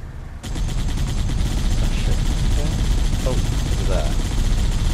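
Gunfire in Halo: Combat Evolved, dense and continuous after a short silent opening, loud bursts layered over a constant rumbling battle din with brief chirping effects.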